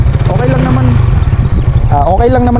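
A Suzuki Raider Fi motorcycle engine revs steadily and loudly as the clutch is released, its pitch climbing toward the end while someone talks over it.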